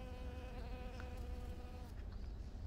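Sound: honeybees buzzing on purple hydrangea flowers

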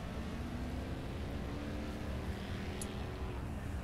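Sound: race car engine in a video game race, Mercedes and BMW

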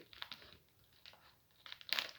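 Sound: opening a Lego Minifigures DC blind bag sachet

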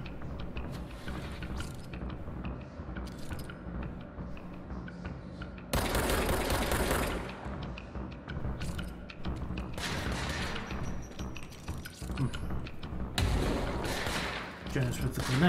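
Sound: gunfire from guns in the video game Control

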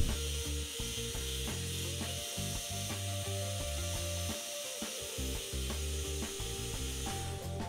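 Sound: jigsaw cutting joining slots in wood

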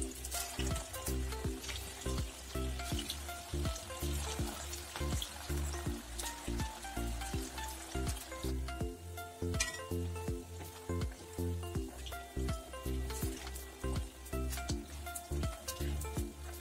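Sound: second batch of veg Manchurian balls deep frying

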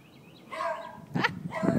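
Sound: beagle dog barking next door

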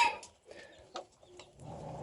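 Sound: chickens clucking while eating feed

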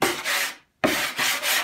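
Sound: sanding with a 100 grit sanding pad

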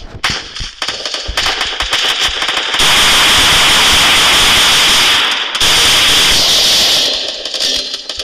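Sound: shotgun firing in a video game

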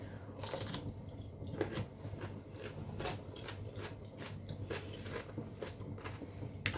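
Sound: crunching firm home-pickled cucumbers

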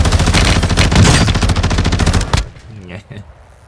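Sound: gunfire in Call of Duty Warzone 2.0 (video game)

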